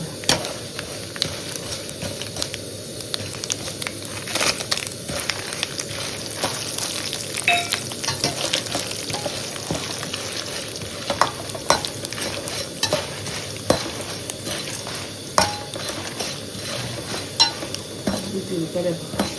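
Dried red chilies fry in hot oil for a tamarind rice tempering, giving a steady close sizzle with scattered crackles and occasional clinks of a stirring spoon against the pan.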